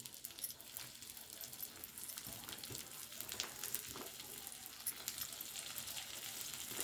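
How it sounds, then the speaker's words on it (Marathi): Onion frying in hot oil for egg biryani, a steady broadband sizzle with small crackles and occasional stirring scrapes throughout, fairly close and even, no talking. "कांदा एकदम मस्त भाजून घ्यायचा आहे"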